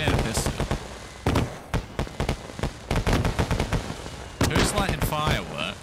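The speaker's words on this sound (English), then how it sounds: "I just heard a gunshot. A lot of gunshots." Gunfire in the survival game DayZ cracks out in rapid, irregular bursts of loud shots, some clustered like automatic fire, with a voice briefly heard near the end.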